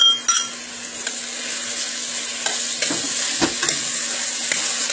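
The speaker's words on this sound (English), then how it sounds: "we're going to add the cut tomatoes and cut green peppers to the onion mix and stir." Chopped tomatoes and green peppers being stirred into frying onions, a steady close sizzle with the scrape and clink of a utensil against the pan and occasional soft bumps.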